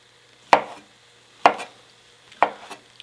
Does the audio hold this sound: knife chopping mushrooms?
yes